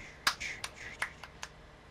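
A few sharp, close hand claps in an otherwise quiet room, each a crisp isolated crack with short gaps between them.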